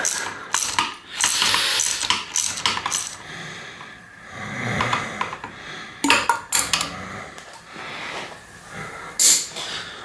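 A bolt being unscrewed inside an Answer Manitou 1 bicycle fork during a rebuild, producing irregular metallic ratcheting clicks and clinks in bursts with pauses, close and fairly quiet.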